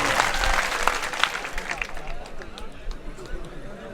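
An audience at a mushaira poetry gathering breaks into loud, dense clapping that fades gradually over a few seconds, with crowd murmur mixed in.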